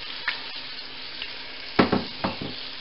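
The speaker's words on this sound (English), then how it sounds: "stir the onions and cook them until they're golden brown." Chopped onions for chicken tikka masala fry in a pan with a low steady sizzle. A few scraping stirs land sporadically, the loudest cluster near the end.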